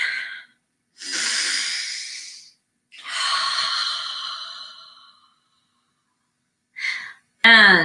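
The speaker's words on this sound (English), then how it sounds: "And a third, just cleansing breath." Deep cleansing breaths during a guided meditation: a short exhale, then two long, loud, airy breaths close to the microphone separated by silence, followed by a brief puff and the start of a voice.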